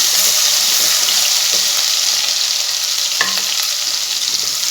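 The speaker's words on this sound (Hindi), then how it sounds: "बहुत अच्छी तरह हमने इसको फ्राई करना है।" Ginger fries in hot oil for an aloo baingan curry, a loud, dense, steady sizzle close up with a few faint stirring knocks and scrapes beneath it.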